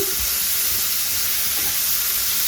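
Avarekai beans (flat hyacinth beans) frying in oil in a pan, a steady close sizzle with occasional stirring scrapes running throughout, no voices.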